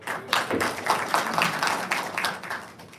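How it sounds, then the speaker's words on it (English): An audience at a morning faculty development session claps, a brief burst of scattered hand claps in a room, moderately loud and fairly close. "Give a big round of applause"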